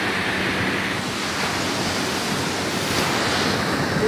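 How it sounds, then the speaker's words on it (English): Bigger-than-normal ocean waves break and wash along Playa Norte on Isla Mujeres, Mexico, blending with strong gusting wind into a loud, continuous roar at close range with no voices. "the wind has picked up, and we are definitely seeing some much bigger waves than normal"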